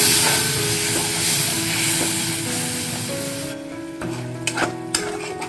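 Capsicum paneer being stirred in a pan after a splash of water, with loud steady sizzling and steam hiss, scraping strokes, then the sizzle thins out and a few sharp clinks of the spatula follow near the end.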